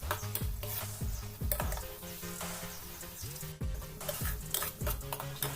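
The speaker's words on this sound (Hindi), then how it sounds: "अब इसमें हम डालेंगे मटर और इसकी भी अच्छे से भुनाई करेंगे 15 से 20 मिनट।" Green peas roasting in a pan while being stirred, with repeated scraping strokes of a spoon against metal over a steady low sizzle, close and fairly loud throughout.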